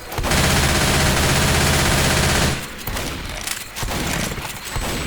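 Rapid automatic gunfire in the video game Left 4 Dead 2 rattles out in a loud, dense burst for a couple of seconds, then drops to quieter, scattered in-game noise.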